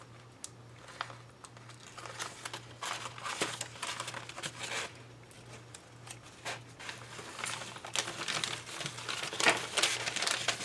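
Transfer paper is peeled off a cutting mat with crinkly, crackling tears in irregular bursts that grow louder toward the end, close up, over a faint steady low hum.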